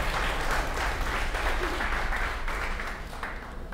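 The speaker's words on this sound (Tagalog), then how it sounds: "The best na palakpak para kay Jesus." Applause for Jesus at a Christian church service: a broad, continuous wash of clapping from the congregation, steady and full, easing slightly toward the end.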